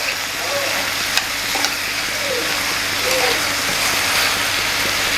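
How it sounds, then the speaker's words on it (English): A tomato, green pepper and onion mixture is stirred in a hot pan, a close, steady sizzle with scraping spoon strokes over about five seconds. "Make sure you stir very good."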